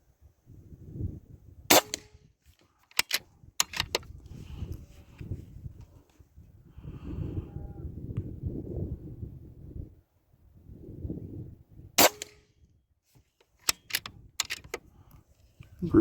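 Rifle shots fired from a bipod ring out as sharp, isolated cracks, single or in quick pairs, spaced several seconds apart and separated by quieter rustling and handling noise between them.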